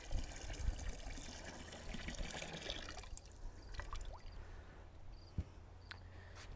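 Water splashes and trickles as a gallon is poured into a smoker's water pan, a close, bubbling pour for about three seconds, then fainter drips and small clinks.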